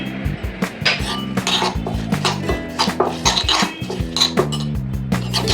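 Sugar, salt, red chili paste, soy sauce and sesame being mixed for Korean pomfret stew, with a utensil clinking and scraping rhythmically against a bowl, close and steady, without talk.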